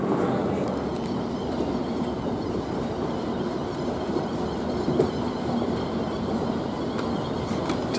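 AirTrain ride from JFK airport: a steady rumbling rail ride with a continuous low roar of wheels and cabin noise, faint background chatter underneath.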